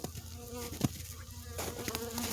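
Honeybees buzz around a hive being set up behind a Canadian Buckfast queen, a dense steady hum with one brief close pass and a slight rise in level toward the end.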